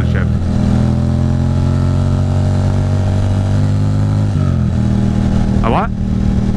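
Motorcycle engine droning steadily close by with a pitch drop mid-clip as it downshifts, on a ride along the Cabot Trail in Canada; a brief higher whine near the end, continuous throughout, with voices talking over it.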